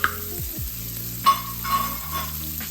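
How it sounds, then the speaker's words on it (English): Shredded cabbage hisses softly in hot oil in a frying pan for egg rolls, with a low steady sizzle and a few faint stirring scrapes, close and quiet with no talking. "we're gonna stir in our cabbage"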